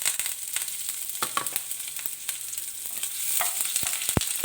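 Garlic and curry leaves frying in oil for a potato fry, a bright steady sizzle with scattered pops and crackles close by.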